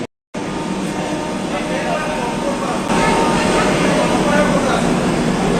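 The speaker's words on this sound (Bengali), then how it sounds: "ট্রেন ঢুকে উঠছে" Train rumbling at New Bongaigaon station in Assam, a steady broadband roar of rolling stock that swells a little louder midway, heard up close after a brief moment of silence at the start.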